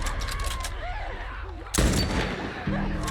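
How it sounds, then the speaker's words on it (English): Rapid gunfire at a horde of infected in The Last of Us Part I, a dense fusillade of close shots over a busy game soundscape, ending in a sharp burst and a lingering tone. "You have to just shoot them until the thing ends."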